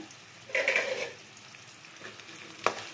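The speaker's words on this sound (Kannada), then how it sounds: "ನಂತರ ಎರಡು ಈರುಳ್ಳಿಯನ್ನು ಸಣ್ಣ ಕಟ್ ಮಾಡಿಕೊಂಡು" Chopped onions fry in a pan with a soft sizzle that swells briefly and then settles, broken by a few light stirring clinks, with no voices.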